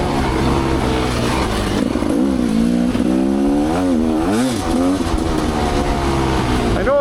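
A dirt bike with a Gnarly exhaust pipe climbs an ORV trail in northern Michigan, loud and close, its engine revving up and down in rising and falling surges.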